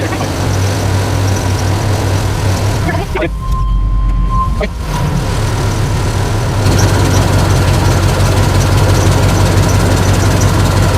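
A car engine idles steadily and loudly throughout, a constant low rumble while a battery test runs, with a brief dip in the noise partway through and no talk.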